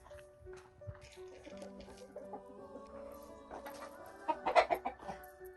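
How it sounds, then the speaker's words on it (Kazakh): Chickens cluck softly nearby, with a drawn-out call midway and a burst of louder, sharper clucking near the end. "Қызым, бұл құс тауық деп аталады."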